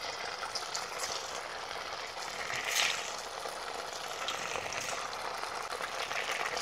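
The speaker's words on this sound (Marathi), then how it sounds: "आपण आता सोया चाप कटिंग करून घेतलेले आहेत ते आता याच्यामध्ये थोडे थोडे टाकून तळून घेणार आहे." Soya chaap pieces deep-frying in hot oil in a wok, a steady soft sizzle and bubbling that holds evenly throughout with a slight swell in the middle, no talking.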